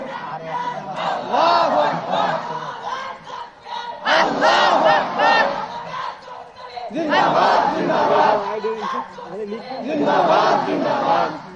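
A large crowd at a Jamaat iftar mahfil in Pabna, Bangladesh, roars back a call of Nara-e-Takbir in four loud, rising bursts of unison shouting separated by short pauses.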